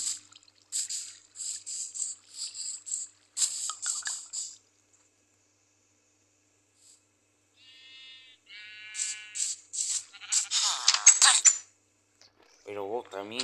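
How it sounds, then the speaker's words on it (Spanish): Sheep bleat in a Minecraft-style video game, a few short wavering bleats among bursts of sharp, clattering game effects with quiet gaps between. "Acabaron de aparecer tres ovejas otra vez"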